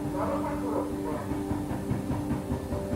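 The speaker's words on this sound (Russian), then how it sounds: "Поезд остановился на очередной станции." A passenger train rumbles steadily as it pulls into a station, with a continuous low mechanical drone and faint rolling clatter throughout, no talk.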